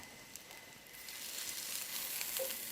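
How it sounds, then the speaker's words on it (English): Vegan sausages browning in a frying pan give off a steady, close sizzle that builds slightly and keeps going throughout, with no talking. "You're just browning them, getting that nice crispy edge on them."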